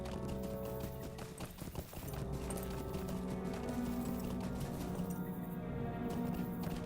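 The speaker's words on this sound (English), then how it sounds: "I'm gonna get on my horse and start doing all this" Horse hooves clip-clopping in Lord of the Rings Online, a steady, fairly faint rhythmic trot of hoofbeats over a continuous bed of game ambience and music.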